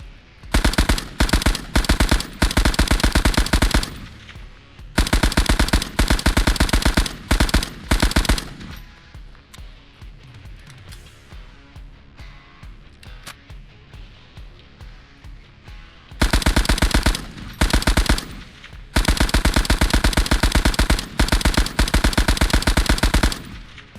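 Lewis gun machine gun in a World War I-era video game firing loud, sustained bursts of rapid automatic fire. Two long volleys open the stretch, a quieter lull with faint mechanical sounds follows, then more long bursts close it.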